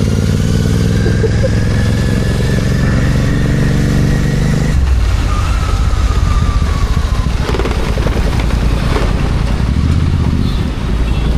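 A GT650 motorcycle ridden on the road, its engine droning loud and steady throughout, with audible gear changes and shifting revs, the rider's voice faintly present beneath the constant engine noise.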